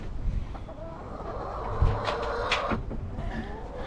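Chickens clucking nearby, soft irregular calls over a low background hum, with a couple of brief knocks.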